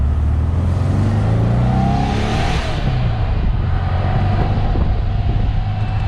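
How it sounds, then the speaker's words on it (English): A 1962 Porsche 356 B Super 90 roadster engine revs loudly and steadily, its deep exhaust note rising and falling close by, with no talking. "the sound of this exhaust"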